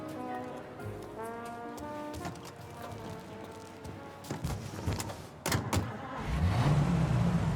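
A car in the Mafia Definitive Edition video game starts up and pulls away, a mid-pitched engine rising into a steady drive after an early stretch of tonal sounds, moderately loud and close.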